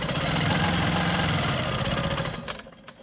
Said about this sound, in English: I'm going to quilt around this little triangle to get where I need to go